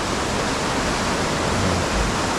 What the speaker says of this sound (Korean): 이름 없는 폭포